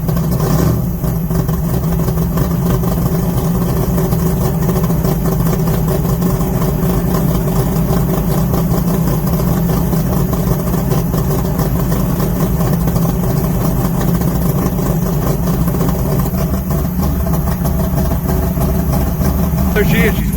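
A 640-horsepower Dodge Charger muscle car with dual points, carburetors and a four-speed idles while warming up, a deep, steady rumble throughout, loud and close, with no notable revving.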